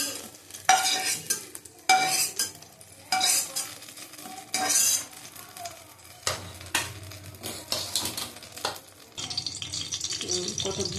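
Lentil dumplings fry in a pan with a soft sizzle, stirred in repeated scraping, clattering bursts of a metal spatula against the pan, near and intermittent, ending in a steadier hiss.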